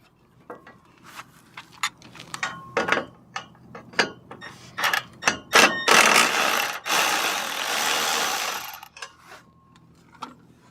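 Metallic clicks and ratcheting from a wrench working a rusty bolt on an F350 truck being fitted as a plow truck, irregular bursts of clanks with a longer grinding stretch in the middle, close and fairly quiet.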